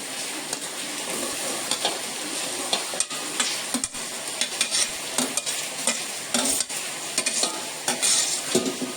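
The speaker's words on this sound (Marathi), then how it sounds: "आता आपण याच्यात हे बटाटे घालूया" Finely chopped potatoes are added to a pot of misal amti for a fasting-style misal, bringing a continuous moderate sizzle and bubbling with scattered utensil clinks as it is stirred.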